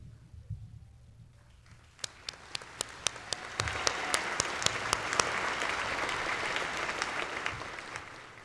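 Applause from a crowd at a high school graduation ceremony, starting with a few scattered claps and quickly swelling into sustained clapping from a large audience in a big hall.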